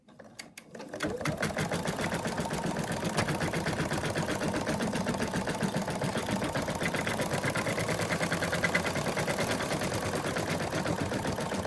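An embroidery machine stitches an applique outline in a fast, even, continuous mechanical rattle that starts abruptly and runs steadily at close range.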